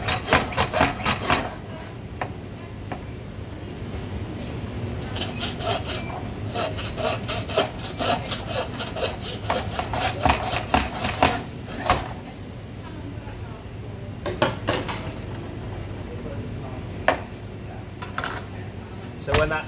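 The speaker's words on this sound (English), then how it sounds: "So we will also be using a hacksaw as well to cut through the bones." A hacksaw cuts through lamb bone, rasping in bursts of quick back-and-forth strokes with pauses between, close and fairly loud, with a voice talking at times.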